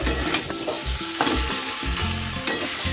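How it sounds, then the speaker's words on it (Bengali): Potatoes for aloo dum sautéed in a wok, sticking to the pan as they are stirred, giving close, repeated scraping strokes over a constant sizzle, with no voices. "ভালো করে আমার কষানো হয়ে গেছে, একদম কড়াইয়ে লেগে লেগে যাচ্ছে"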